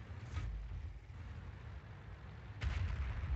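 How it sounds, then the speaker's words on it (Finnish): Gunfire and shell blasts aimed at the player's tank, a T71 light tank, in a tank battle game, heard as dull low booms with a broad burst near the start and a louder, closer hit near the end over steady engine rumble. "Ja minua ammutaan."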